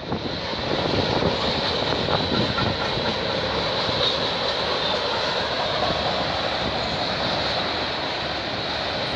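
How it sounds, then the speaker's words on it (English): A long CP or CN freight train rumbles past nearby in Milton, Ontario, a loud, steady roar of wheels and cars that continues unbroken with no voices. "it's a long train"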